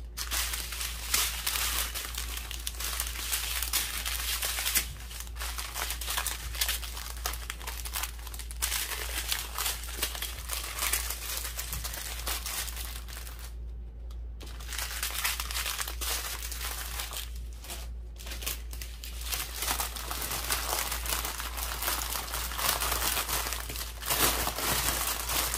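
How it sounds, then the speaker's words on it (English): Plastic packaging from a diamond art canvas crinkles and crackles almost continuously as it is handled up close, with a couple of brief pauses and a low hum underneath. "Let's see if we can get this back in the plastic."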